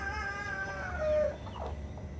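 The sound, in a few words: mother hen clucking near her chicks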